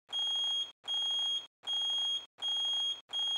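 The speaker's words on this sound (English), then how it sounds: "The frequency of beeping and the LEDs illuminated will increase as you move towards the source." A high-pitched beep from an electronic refrigerant leak detector repeats in steady, evenly spaced pulses, about five in a row, loud and alone.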